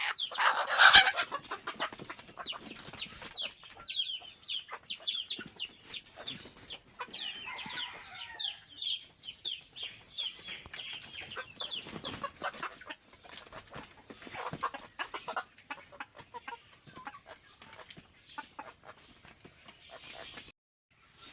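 Native village chickens, several hens and roosters, cluck and squawk in bursts close by, with a loud call at the start and a brief flutter of wings, then scattered quieter clucks continuing.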